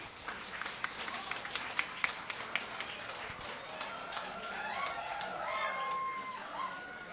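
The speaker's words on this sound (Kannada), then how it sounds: "ಬರಲಿ ಜೋರಾದ ಚಪ್ಪಾಳೆ" An audience at a Kannada Rajyotsava essay-competition award ceremony breaks into applause, a spread of scattered claps over a steady crowd murmur that fades to a softer wash.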